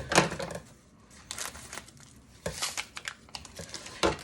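Scissors cutting open a plastic package: irregular crisp snips and crinkly plastic rustles close by, a few sharp cuts spaced unevenly with quieter handling noise between them.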